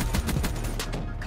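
Gunfire in Call of Duty: Black Ops 3 comes as a rapid burst of close, loud automatic shots in quick succession.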